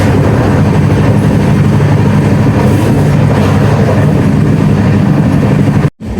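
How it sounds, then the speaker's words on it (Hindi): The Sairang Rajdhani Express 20508 runs at speed, heard from inside as a loud, steady rumble and rattle of the coaches on the rails, cutting out abruptly for a split second near the end. "बढ़िया स्पीड मेंटेन किए हुए, स्टॉपेजेज है नहीं, एकदम भागती हुई जा रही है हमारी ट्रेन।"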